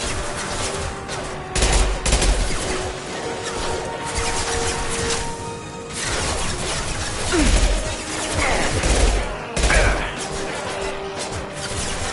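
Gunfire in the video game Mass Effect 2: bursts of rapid shots rattle in waves over continuous combat noise, loud and fairly close.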